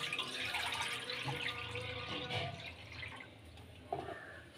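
Sugarcane juice pours into a pan on the stove, a steady close liquid splash and trickle that runs for a few seconds with a small clink near the end.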